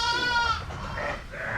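A lamb bleats once, a clear wavering cry up close during lambing season, followed by softer rustling and breathy farmyard noise.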